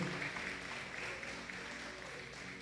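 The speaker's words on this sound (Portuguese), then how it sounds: "Você pode aplaudir a Ele." A church congregation applauds together, producing a dense, steady wash of clapping that stays moderately loud for a few seconds, with no talk over it.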